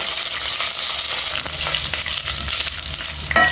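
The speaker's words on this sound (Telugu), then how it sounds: "ఇట్లా మంచిగా అల్లం వెల్లుల్లి పేస్ట్ కూడా మంచిగా ఫ్రై అయిపోయింది" Onions and ginger-garlic paste frying in a pan for a cashew chicken fry, a steady loud sizzle with occasional stirring scrapes and a sharper clink near the end, no talking.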